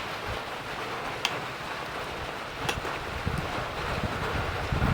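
Cold wind blowing hard outdoors during a heavy rainstorm, a steady broadband rush buffeting the microphone for the whole stretch, with a few gusty bumps and no voices.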